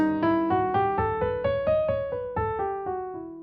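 A sequence of clear piano notes played one after another in a steady, even rhythm, forming an altered-mode scale that climbs and then descends, each note ringing briefly.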